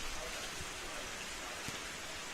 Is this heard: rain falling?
yes